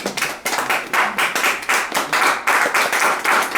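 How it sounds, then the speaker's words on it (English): A small audience claps in short, uneven bursts, each a quick run of hand claps that rises and fades, repeating roughly every half second to second, close and moderately loud with no voices. "This is where you applaud me"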